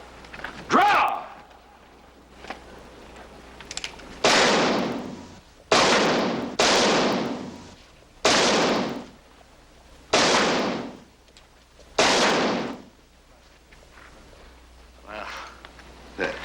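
Six loud, close gunshots ring out at a shooting contest, spaced about two seconds apart, each a sharp crack with a decaying tail, preceded by a fainter pop.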